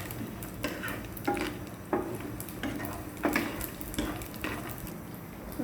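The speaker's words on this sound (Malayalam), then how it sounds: "നമുക്കിനി അണ്ടിപ്പരിപ്പ് മുന്തിരി വറക്കാൻ വയ്ക്കാം." Cashews and raisins fry in sunflower oil for a chicken biryani, a quiet sizzle broken by repeated clinks and scrapes of a spoon against the pan, fairly close and without talk.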